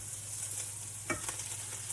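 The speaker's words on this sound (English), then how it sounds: "Now, dump in your kale," Kale dropped into a hot pan with garlic, a quiet steady sizzle with a brief rustling clatter as the leaves land, close and without talk.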